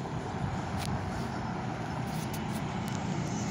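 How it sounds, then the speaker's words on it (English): A Kenworth truck rolls past at night, a steady low roadway rumble with faint hissy bursts near the middle and end, heard from a moderate distance with no talk. "We got a Kenworth, I believe."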